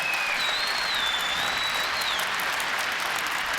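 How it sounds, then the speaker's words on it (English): An indoor archery crowd claps steadily at the Vegas Shoot 2018 freestyle championship shootdown, a dense, even wash of applause lasting a few seconds, with a brief high whistle rising above it. "give them a big round of applause"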